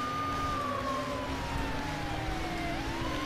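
A police car siren in the Need for Speed: Hot Pursuit racing game wails with a slowly falling tone, steady and loud over a constant engine and road rumble, with no talking.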